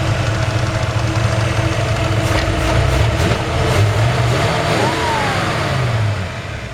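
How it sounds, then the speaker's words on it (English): A 1965 Ford F100 pickup truck engine runs steadily at idle with a low, even rumble and a slight rise in revs partway through. "Engine runs great."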